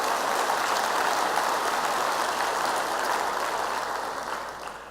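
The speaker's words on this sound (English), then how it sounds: "let's give them a round of applause." Steady applause from an audience at a teacher appreciation event, a dense, even wash of many hands clapping for about five seconds before easing slightly at the end.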